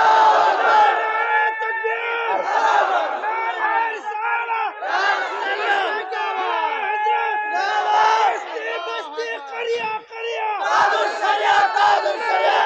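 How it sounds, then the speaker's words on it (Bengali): A large religious gathering at a Bangla waz sermon responds in unison with a loud, sustained takbir chant, many voices swelling and repeating in waves throughout with only brief dips. "2 হাত সোজা করে আল্লাহকে দেখে জবান খুলে একটা তাকবীর হবে"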